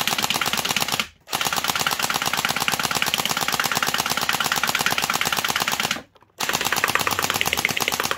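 A Mini M249 gel blaster fires in long continuous full-auto bursts, rapid and loud, with two brief pauses between strings of shots.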